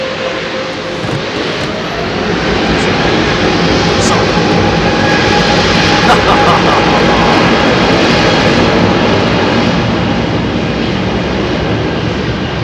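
An aeroplane engine roars loudly and continuously at Heathrow Airport, a broad sustained jet-like rumble and whine that holds steady throughout, close and with no voices audible.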